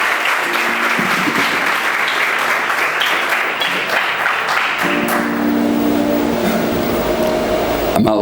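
A church congregation claps for a man in warm, sustained applause that fills the room evenly for several seconds, then gives way to a soft organ or keyboard pad.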